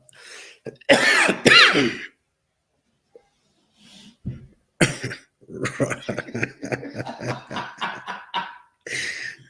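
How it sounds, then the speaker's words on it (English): Coughing and throat clearing: a burst of harsh coughs near the start, then after a quiet gap a run of short rough coughs and throat-clearing sounds, close and fairly loud. "He coughed"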